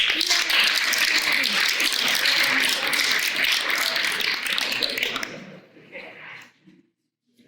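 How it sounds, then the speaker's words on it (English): An audience claps for an Arc Thrift Stores ambassador of the month award presentation: dense, sustained applause that thins out after about five seconds and gives way to near silence. "One more round of applause."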